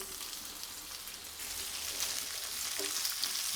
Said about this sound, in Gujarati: મરચાં એકદમ સરસ સંતળાઈ ગયા છે તો હવે સમારીને રાખેલા ટમેટાં ઉમેરી દઈશું.